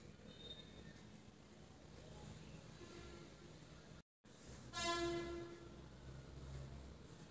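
A pressure cooker in a home kitchen hisses quietly at first. After a brief dropout it lets out a loud, steady whistle that holds to the end.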